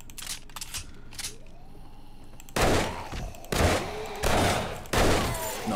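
Gunfire in the video game 7 Days To Die: a few light shots at first, then four loud, heavy bursts of firing in quick succession, close and booming.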